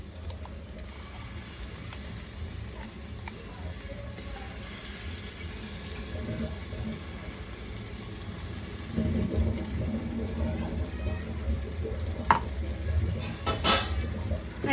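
Tomatoes and green masala sautéing in a pan over high heat for a vatana pulav: a steady, moderate sizzle and crackle with soft stirring scrapes, growing a bit louder midway, with occasional sharper clinks of a spoon on the pan.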